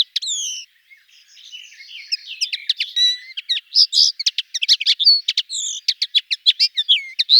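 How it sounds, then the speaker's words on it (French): A small songbird sings in gorse, broom and bramble heathland, giving rapid, bright, high chirps and trills in quick bursts, close and clear with no other sounds. "J'adore cet oiseau."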